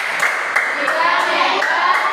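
A class of children claps in a quick steady rhythm, the claps sharp and even, with young voices chanting along.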